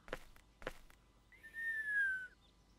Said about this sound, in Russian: И не свисти, да?